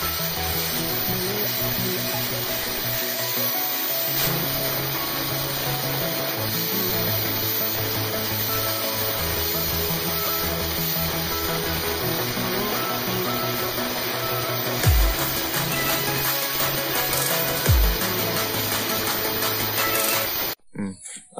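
A grinder sharpens the second edge of an axe made from a motorbike sprocket wheel, a loud, continuous abrasive whine with a couple of brief surges, running steadily until it stops abruptly at the end.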